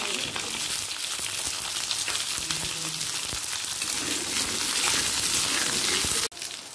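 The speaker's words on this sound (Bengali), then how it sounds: "প্রথমে পটলটাকে একটু হালকা লাল করে ভেজে নেব।" Pointed gourd fries in hot oil with five-spice seeds, a dense, steady sizzle close by with a few light stirring taps, cutting off abruptly near the end, and no talking.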